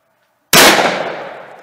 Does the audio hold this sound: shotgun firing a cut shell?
yes